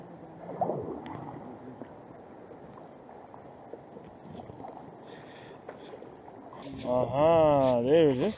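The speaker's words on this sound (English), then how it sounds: "I'm paddling now." A canoe is paddled on the Zambezi River, with soft, faint water strokes and gurgles under steady wind noise and brief talk, then a louder wavering voice near the end.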